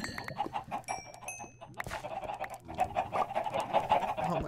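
Chickens clucking in a video game, a run of short, repeated clucks and squawks with a few brief bright tones from game effects, moderately loud over a busy background.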